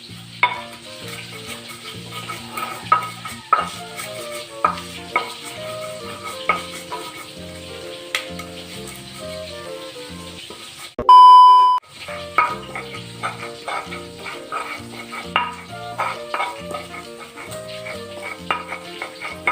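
Spices for a young jackfruit vegetable dish are ground together by hand with a mortar and pestle, giving repeated rhythmic knocking and scraping strokes throughout, broken by a short electronic beep midway, with no talk.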